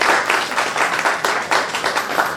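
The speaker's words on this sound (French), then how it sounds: "on applaudit encore pour ton grâce" An audience at an artistic café gathering applauds with steady, moderately loud clapping for a couple of seconds, with no talking.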